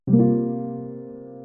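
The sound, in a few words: C dominant 13 sus4 chord on keyboard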